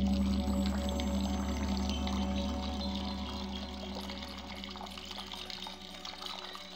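Water spurts up through a small hole in the base of a sandy fountain pedestal in the video game Discworld II, a soft continuous gurgling pour under a low steady hum, fading slightly toward the end.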